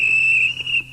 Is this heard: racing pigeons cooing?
no